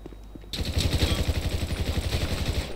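Rapid automatic gunfire, a fast, steady burst of close, loud shots that starts abruptly after a quiet moment and keeps going.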